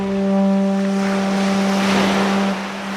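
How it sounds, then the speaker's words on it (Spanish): Sea waves washing onto the shore of a Colombian island near San Andrés, a loud steady surf rush beneath a sustained low droning tone that eases off near the end. "El mar lame las orillas de una paradisíaca isla colombiana."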